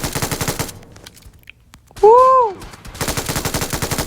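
Rapid bursts of MG3 light machine gun fire in PUBG Mobile, with a steady run of close, loud shots near the start and again at the end; between the bursts a voice lets out a sharp exclamation.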